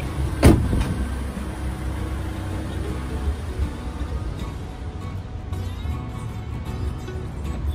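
A camper van rolls slowly on a rough track in Spain, a steady low engine and road rumble with a sharp knock near the start.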